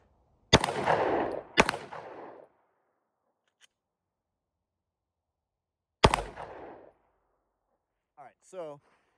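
Gunshots fired while testing an Olight Osight red dot sight: two sharp loud reports close together, a pause, then a third shot, followed by faint handling noise.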